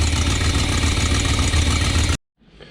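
A 1979 Winnebago engine with an exhaust leak idles loudly and steadily with a rough, pulsing rumble, then cuts off abruptly, leaving faint background noise.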